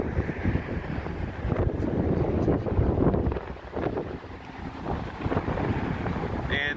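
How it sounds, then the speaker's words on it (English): Strong wind gusting straight into the microphone beside a car, a heavy, roaring buffet that surges and dips continuously, close and loud, with a faint voice in the background. "This wind is unreal."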